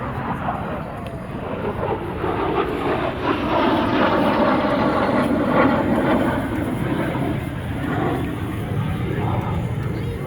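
An L-39 jet flying an aerobatic air show display, its engine roaring loud and steady overhead from start to finish, with faint speech underneath.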